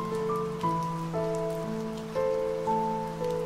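Steady rain patters softly on a surface beneath sustained piano notes that step through a slow, calm melody.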